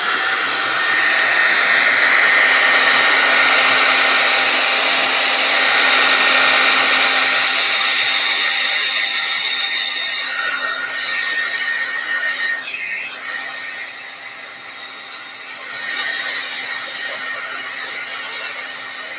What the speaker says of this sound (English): So I'm going to blow dry it.